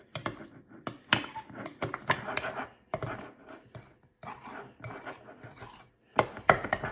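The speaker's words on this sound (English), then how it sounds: "Try and scrape up all the flour you possibly can off the side of the bowl." A butter knife scraping and stirring a thick sourdough starter of flour against the sides of a bowl, in a steady run of close, rough scrapes and light clinks with brief pauses.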